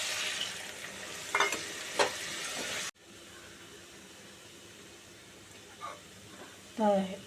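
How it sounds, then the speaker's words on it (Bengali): A loud, bright sizzle of frying spices cuts off sharply when water goes into the pan with potatoes, taro and shrimp. Quieter bubbling and a few soft kitchen clinks follow nearby. "আলু আর কচুতে জল দিয়ে চিংড়িগুলো দিয়ে দিলাম"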